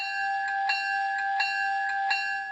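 A GEVO locomotive bell rings from a RailPro sound car, an even, close, metallic clang repeating about every 0.7 seconds over a sustained ringing tone.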